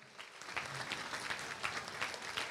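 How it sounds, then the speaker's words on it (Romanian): Graduates at a medical faculty graduation ceremony in a hall applaud their guests, a continuous, even patter of many hands, somewhat distant and soft, with no talk. "Și să-i aplaudați, pentru că v-au fost alături încă de la început"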